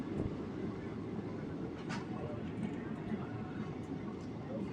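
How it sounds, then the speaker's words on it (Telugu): Gunthakal–Tirupati passenger train running after leaving Pakala junction, a steady low rumble of wheels and carriage noise heard from inside, with a faint voice over it. "పాకాల నుంచి మన ట్రైన్ బయలుదేరింది."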